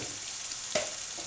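Potatoes frying in a pan with turmeric and salt for a caralluma vegetable curry, a steady soft sizzle with one brief louder scrape of stirring partway through, close and fairly quiet.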